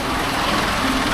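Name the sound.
motorbike engines in heavy traffic in Bali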